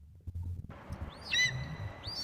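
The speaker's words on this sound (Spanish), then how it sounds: "Y no estoy matando al pájaro." A bird in The Walking Zombie 2 video game gives a couple of short, bright chirps over quiet low background rumble, the calls brief and fairly close.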